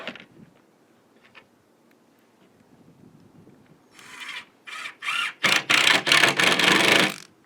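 A power drill drives screws into plywood while building a skateboard grind box, giving short whirring bursts that grow into longer, louder runs near the end after a quiet start.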